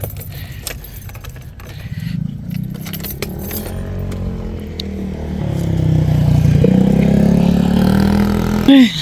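A motorcycle engine revs close by, its note climbing and building in the second half, with keys jangling and clattering handling noises at the start.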